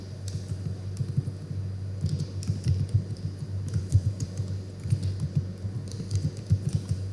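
Soft clicking of a computer keyboard being typed on, irregular bursts of keystrokes, faint and close against a low steady hum.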